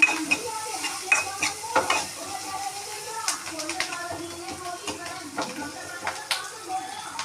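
Onions sauté in a pan for an egg curry, with a spatula scraping and clinking against the metal in an uneven rhythm over a soft sizzle, close by, while someone speaks intermittently.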